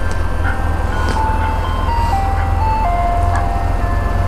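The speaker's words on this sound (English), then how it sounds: "Oh, it's an ice cream truck." An ice cream truck's tinny electronic jingle plays a stepped melody over a loud, steady motorcycle engine drone while riding through downtown Los Angeles traffic.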